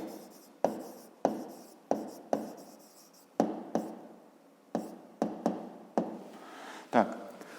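Handwriting a maths answer for a fifth-grade exercise, a series of about a dozen sharp pen taps and short scratching strokes at an irregular rhythm, close and fairly quiet.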